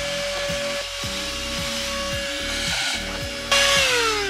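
A steady cordless car vacuum motor whine with a constant tone, loud and continuous, cleaning tight car corners, rising in pitch and brightness near the end as the suction changes.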